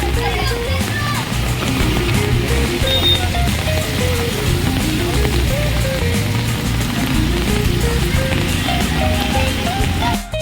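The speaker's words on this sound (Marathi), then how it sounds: "तर पाऊस कमी व्हायचं नाव घेत नाही बघा" Heavy rain falls outdoors in a steady, dense wash that lasts throughout, with voices talking over it.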